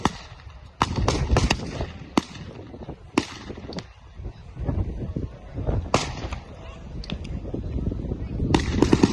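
Sharp gunfire cracks and booming shots from concrete pillboxes in a WWII-style battle reenactment, scattered irregularly over a restless outdoor crowd noise and a commentator's voice, some reports loud and close, others farther off.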